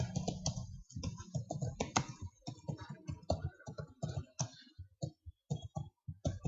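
Someone types code on a computer keyboard, with close, clear key clicks coming in quick irregular bursts and short pauses between them.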